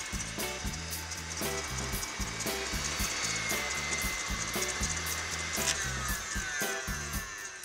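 An electric mixer whips egg whites for maple meringue frosting, with a steady faint motor whir and soft rhythmic beater ticks against the bowl.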